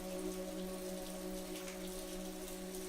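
Steady, soft rainfall in a park, a continuous even patter with no gaps, laid under a faint sustained musical hum.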